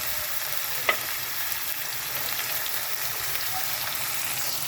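Monggo (mung beans) with tinapa cooking in a pan: a continuous close sizzle and bubbling hiss, with one faint scrape of a stirring spoon near the start.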